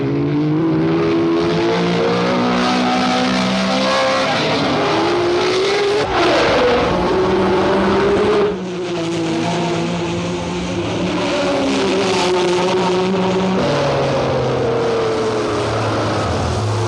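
Grand Prix race cars from 1966, a Ferrari and a BRM, roar past loudly with high whining engines that rise and fall in pitch as they accelerate and shift, a continuous dense racing din.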